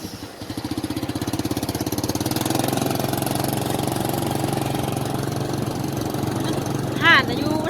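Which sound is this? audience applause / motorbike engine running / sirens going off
motorbike engine running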